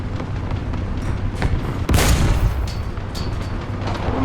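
A tank cannon in War Thunder, from a Valentine Mk.IX British medium tank, fires one loud booming shot near the middle, set against a steady low engine rumble.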